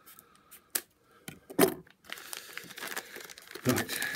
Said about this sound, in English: Use my scissors to get in.